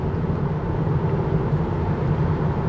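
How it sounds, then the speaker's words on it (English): Road noise inside a Tesla Model 3 SR+ on the move, a constant low rumble and broadband hiss from the wheels filling the cabin, steady and loud with no voices. "Road noise is the worst enemy for this car."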